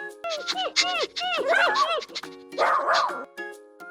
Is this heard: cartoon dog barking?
yes